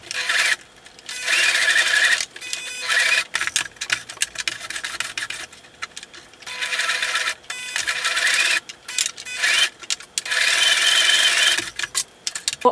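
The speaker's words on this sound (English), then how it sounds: "now what we want to do is just sew across this seam here" A sewing machine stitches across the seam of a tote bag. It runs close and loud in three long bursts of rapid needle chatter, with brief pauses between them.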